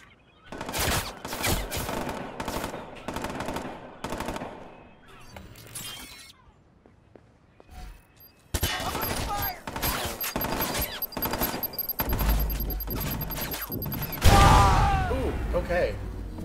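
Bursts of gunfire in Watch Dogs 2, a target soaking up bullets: repeated sharp shots in quick clusters, some glass-like shattering and a loud burst near the end, with quiet gaps between volleys.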